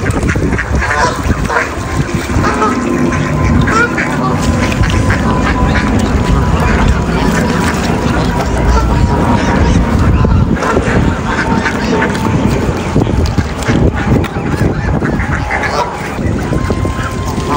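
A large wild flock of about a hundred geese and ducks honks and quacks nonstop, loud and dense all around in a wintering spot, with water and boat noise beneath.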